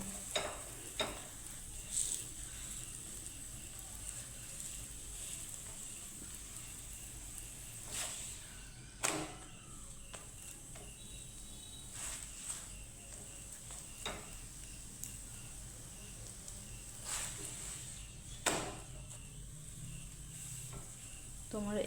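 A raw onion snack pressed down and fried in oil, heard as a soft steady sizzle with occasional clinks and scrapes, fairly faint and close.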